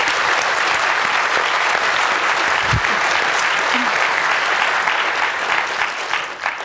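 Sustained, loud applause from an audience at a talk featuring accomplished women, a dense wash of clapping that holds steady throughout and tapers slightly at the end.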